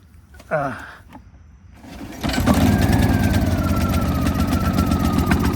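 Honda EU2000i portable inverter generator, pull-started after a brief rope-pull rasp, then settling into a steady, loud running drone with a fine rhythmic pulse close by.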